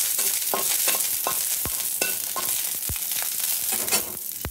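Green chillies fry in hot oil for a coriander-stem chutney, giving a continuous loud sizzle and crackle broken by regular sharp clinks of a spoon stirring against the pan.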